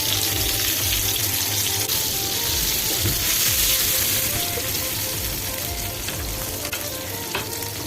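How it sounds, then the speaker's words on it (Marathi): Bangda (mackerel) fish shallow-frying golden brown on medium to low heat in a pan at home, giving a steady, loud, continuous sizzle and crackle from start to finish with no talking. "बांगडा दोन्ही साइडून गोल्डन ब्राउन पर्यंत चांगला भाजून घ्यायचा"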